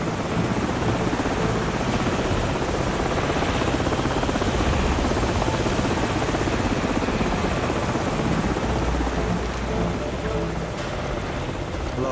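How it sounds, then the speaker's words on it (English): Steady loud helicopter rotor roar in Call of Duty 4 fills the whole stretch, a dense continuous thrum with a faint rain-like hiss on top. "Enemy helicopters! Get on the sides now!"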